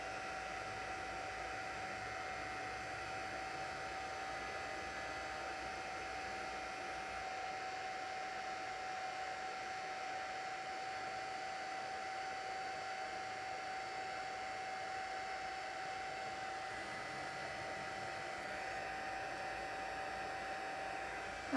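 A heat tool for heat embossing a card runs steadily with a constant whooshing blow and a thin whine, loud and close for the whole stretch with no talk.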